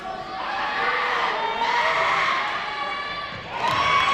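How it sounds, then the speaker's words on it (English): A gym crowd at a high school girls' basketball game roars and cheers loudly and continuously, with high-pitched shouting and whoops swelling again near the end. "The crowd gets loud,"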